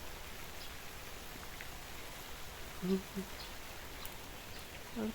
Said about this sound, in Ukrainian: ці дощі вони не потрібні вже поки